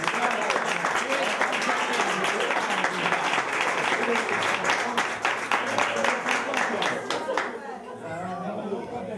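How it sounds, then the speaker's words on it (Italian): A crowd applauds at an award ceremony during a Sicilian traditional sweets festival, with dense, rapid clapping that runs steadily for several seconds, then stops abruptly, leaving murmured chatter and voices. "un altro applauso per favore"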